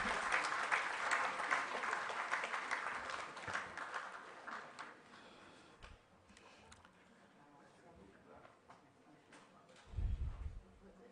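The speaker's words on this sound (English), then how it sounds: "Please, let's keep clapping for the speaker." Audience applause fills a large hall at a World Parliament Day gathering, strong at first and thinning into scattered claps, with a low thump near the end.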